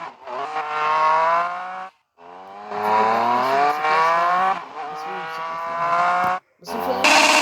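Motorcycle exhaust revving in a video game, loud harmonic engine wails that climb in pitch in long pulls, broken by two short silent gaps between revs.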